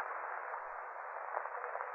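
A steady, continuous snake hiss, thin and filtered-sounding, runs unbroken for the whole moment with no voices over it.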